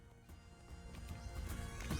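A horse gallops in Lord of the Rings Online, with rapid hoofbeats on the ground that build slightly louder over two seconds, alongside faint game ambience and no talking.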